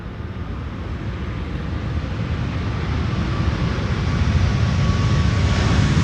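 A WestJet Boeing 737 MAX 8 arrives at Schiphol on the Polderbaan runway, its jet roar a broad, steady rumble that grows gradually louder as the aircraft approaches, with no voices over it.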